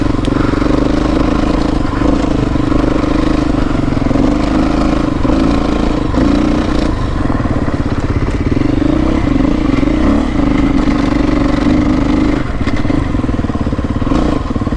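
A Beta 350 dirt bike engine lugging at low revs, a loud, close, steady low chugging drone with uneven pulsing throttle surges and faint mechanical clatter throughout, no talking.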